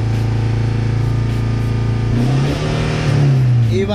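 A Toyota Fortuner engine with a throttle controller set to sport mode hums steadily, then revs up sharply and loudly about halfway through, holding high before easing off.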